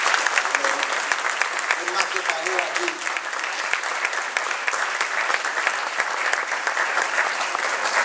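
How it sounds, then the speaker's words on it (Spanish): Church congregation applauding during a Spanish-language sermon, a steady dense clapping that fills the whole stretch while the preacher keeps speaking over it. "Otro un aplauso a Cristo."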